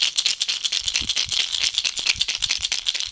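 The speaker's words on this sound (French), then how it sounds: "ce leurre est une maracas ambulante" Fast, continuous rattling like shaken maracas from an Illex Dexter Jerk pike fishing lure, a dense bright clatter of small beads repeating in quick bursts, close and fairly loud.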